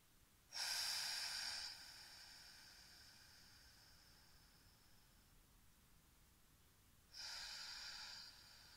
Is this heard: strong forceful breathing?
yes